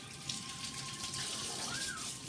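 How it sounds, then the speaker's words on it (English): Tap water runs steadily over a raw turkey as the brine is rinsed off, a soft continuous splashing stream heard close and alone without talk. "I'm going to rinse off the brine, get all that salt off of it."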